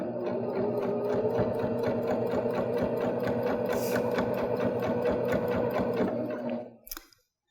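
Baby Lock Jazz II sewing machine stitching binding onto a quilt, a close, steady rhythmic chatter of stitches for several seconds before stopping abruptly, with a brief click after.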